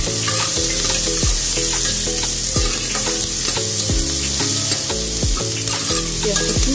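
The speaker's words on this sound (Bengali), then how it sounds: "পেঁয়াজটা একটু ভাজা ভাজা হয়ে গেলে আমি" Onions and bay leaves fry in a pan for a mutton curry, a loud continuous sizzle with repeated rhythmic scrapes and knocks of a spatula stirring against the pan, with no talk.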